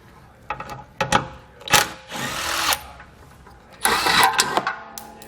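A power tool backs out tailgate bolts on a 2013 Jeep Wrangler in several short whirring bursts of varying length, separated by brief quiet gaps.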